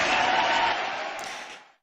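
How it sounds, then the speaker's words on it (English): An audience at a live ham radio show applauds and cheers in a dense, loud burst of crowd noise that holds briefly and then fades out within about two seconds. "Big applause."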